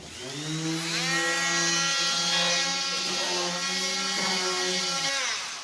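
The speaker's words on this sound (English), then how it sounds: "We're just gonna sand this. It's gonna take us a while, but we're gonna sand it." A power sander strips old paint from a surface, giving a loud continuous whining drone that rises, holds steady for several seconds, then winds down at the end.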